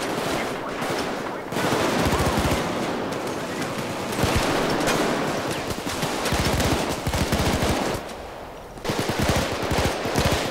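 Rapid automatic gunfire from weapons in the Payday shooter video game, heard in long dense bursts separated by short pauses, loud and close over constant game noise.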